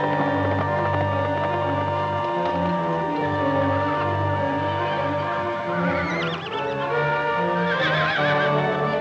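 A horse neighs in a long, loud whinny, and a second shrill whinny rises near the end. Steady hoof clatter and a dense soundtrack run underneath, set at a canyon rim in a 1949 Western.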